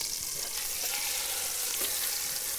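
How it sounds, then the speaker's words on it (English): Meat browns in butter in a hot pan, a close, dense and steady sizzle with faint crackles and a few small stirring touches, no voices. "So roll it into the butter."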